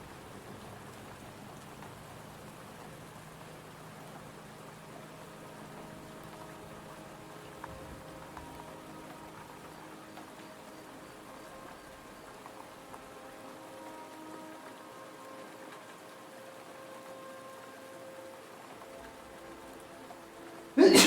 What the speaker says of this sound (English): Gentle rain sounds.